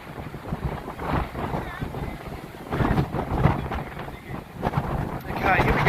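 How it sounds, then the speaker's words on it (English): A strong cyclonic wind storm roars at the Semaphore jetty in Adelaide, South Australia, battering the microphone with heavy, rumbling gusts that rise and fall continuously and fill the whole scene. "unprecedented for Adelaide to get this kind of cyclonic wind storm"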